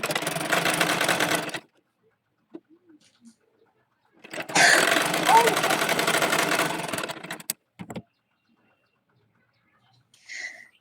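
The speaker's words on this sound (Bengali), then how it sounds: "অপর পাশেও একইভাবে সেলাই দিয়ে নিচ্ছি।" Two close, clear runs of a sewing machine stitch a baby dress made from single-colour gauze fabric, a short burst followed after a quiet gap by a longer one, with a few small clicks in between.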